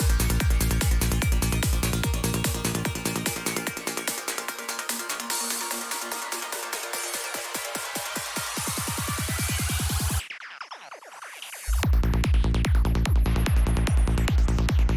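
Psytrance build-up with dark, low kicks that speed up into a rapid roll, a brief near-silent break filled with sweeping effects, then the full pounding kick and bass pattern returns loud.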